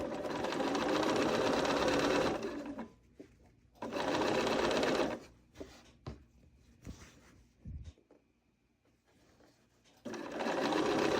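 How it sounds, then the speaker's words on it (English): A sewing machine chain-pieces quilt pieces in steady fast bursts, a loud continuous whir that stops and restarts, with quieter clicks and handling noises between runs. "And again, I will chain them. And it should go pretty quick. It's very simple sewing."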